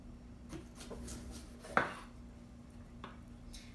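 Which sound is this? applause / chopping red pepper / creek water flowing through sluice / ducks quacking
chopping red pepper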